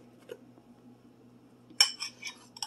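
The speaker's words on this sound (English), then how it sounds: "your fork and mix the bread all around and the egg and milk mixture" A fork clinks against a mug while mixing bread with egg and milk, first a single faint tap and then a cluster of bright metallic scrapes and clinks near the end of a quiet stretch.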